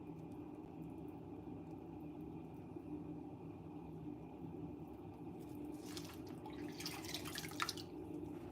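Water drains out of a thrown pottery piece, heard as soft dripping and trickling over a low background hum, ending in a short burst of splashing toward the end.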